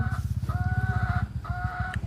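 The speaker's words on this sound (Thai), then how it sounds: "ไก่ในบ้านนี่" Chickens at a house give a rapid, rhythmic run of clucks at close range. Higher crowing-like calls rise over them in short bursts. There is no talk.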